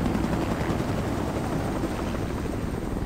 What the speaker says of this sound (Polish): Jest nasz śmigłowiec.